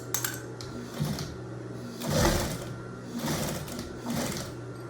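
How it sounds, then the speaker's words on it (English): A sewing machine stitches fabric for an apron in several rhythmic bursts of rapid mechanical clatter, with short pauses between runs, heard up close. "I'm just going to sew it right here."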